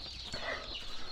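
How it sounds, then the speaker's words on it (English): Freedom Ranger meat chicks fill the space with steady, overlapping high cheeping, a dense close chorus from many birds with no break. "these birds over here are chirping as well as these ones"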